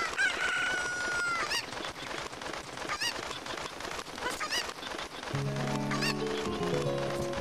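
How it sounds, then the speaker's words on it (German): A chicken in Zelda: Ocarina of Time, in a ROM hack, crows and clucks over dense game music with bright pitched accents, followed by sustained low tones near the end. "Soll ich das Huhn nehmen zum Runterfliegen?"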